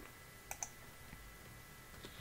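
Two quick mouse clicks land about a tenth of a second apart on a close button in Enterprise Architect software, faint against a quiet room hum, with a softer tap near the end.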